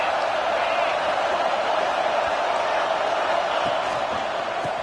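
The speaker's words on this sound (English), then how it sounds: "Big third down as the crowd gets behind this defense." Football stadium crowd roaring steadily as the defense lines up for a third down, a dense, sustained wall of cheering and whooping that stays loud for the whole stretch.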